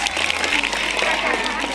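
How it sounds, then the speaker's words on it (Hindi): Audience at a village Pola festival in Chhattisgarh applauding a prize winner, a dense wash of many hands clapping steadily under a voice talking. "ताली बजा भैया ऋचा वर्मा के लिए"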